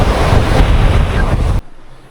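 Rough open sea at about 28 knots of wind and a 2.5 metre swell while sailing from Sicily to Greece: loud rushing wind buffeting the microphone over crashing surf, cutting off abruptly after about a second and a half.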